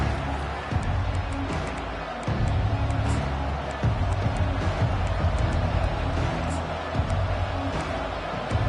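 A packed college football stadium at LSU roars with a steady, dense wall of crowd noise, with scattered cheers rising out of the din.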